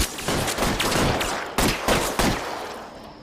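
Rapid gunfire in the LA Noire video game, a dense burst of overlapping shots with several sharper cracks standing out, loud and close, fading slightly toward the end.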